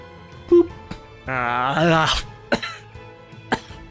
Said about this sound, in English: as he kind of coughs up some more blood